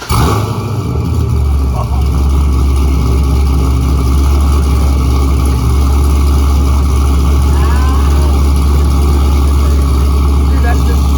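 A C6 Corvette fitted with new headers cranks over and settles into a loud, steady idle with a heavy low rumble that fills the whole stretch, with people talking over it.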